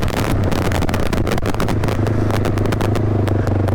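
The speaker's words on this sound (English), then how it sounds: "This engine is pulling hard right now." A rough, loud off-road vehicle engine runs continuously under hard load with rattling clatter, a steady rumbling drone without pauses.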